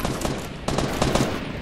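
Video game gunfire rattles out in dense, rapid bursts, a machine-gun-like barrage that fills the short moment at close range, with a brief dip before it resumes. No one speaks.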